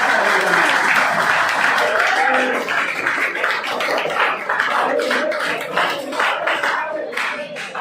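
Students at a motivational seminar in an inter college hall clap loudly and vigorously, a dense roar of hands with shouts and cheers mixed in, easing slightly toward the end.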